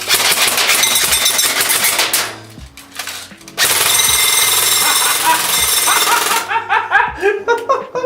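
VFC SCAR-H airsoft rifle fired on an indoor shooting range, loud rapid full-auto bursts with a short pause, then a stutter of separate shots at the end, very close with no speech.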